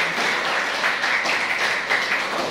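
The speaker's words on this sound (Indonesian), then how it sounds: "aplaus buat mereka bertiga" A classroom audience in an agrarian sociology class applauds three speakers, giving steady, dense clapping that holds at an even level from start to finish with no voices over it.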